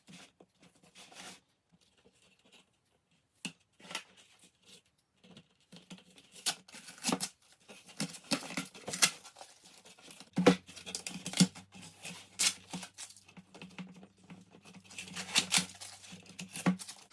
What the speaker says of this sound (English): get the inside masking tape off